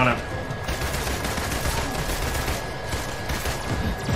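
Rapid automatic gunfire in the combat video game Marvel's Avengers, a dense continuous fusillade of shots filling the whole stretch at steady loudness amid other game noise.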